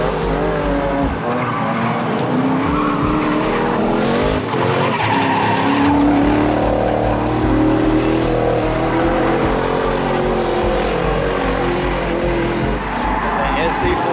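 At a grassroots drift event at a dragway, a drift car spins out with long, loud tire squeal over a roaring engine, and someone talks over the noise throughout.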